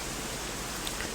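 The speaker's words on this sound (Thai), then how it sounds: "แข่งกับเสียงฝนตอนนี้ตั้งนอกก็ฝนตกหนัก" Heavy rain pouring outdoors during a sermon at a Thai temple, a dense, steady hiss filling the space with no breaks and no voices.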